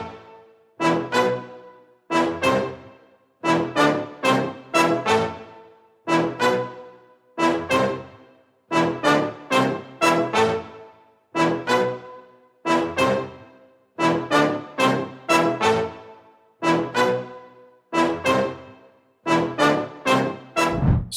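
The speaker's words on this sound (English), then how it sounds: "Then I sampled the original trumpet from the song itself." Sampled trumpet lifted from an Afrobeats song, layered with a new melody, playing as a steady loop of short, punchy phrases repeating in an even rhythm, loud and alone with no voices.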